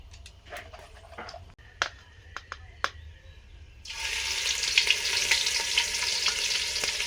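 Whole garam masala spices, cloves, cardamom and cinnamon, drop into hot oil in a pan: scattered clicks and taps at first, then a steady loud sizzle of frying that carries on to the end.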